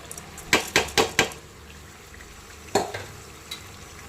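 Soaked rice tipped into hot ghee in a pot and turned over with a spoon, giving a quick run of four scraping clatters followed by two more a moment later over a soft sizzle.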